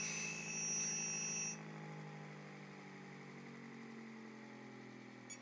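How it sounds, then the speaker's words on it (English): A motor is switched off and its armature keeps spinning down during a bearing test, a steady mechanical hum that drops in level after a faint high whine cuts out early, then lingers quietly on its own. "Okay, so I'm going to shut off the motor now,"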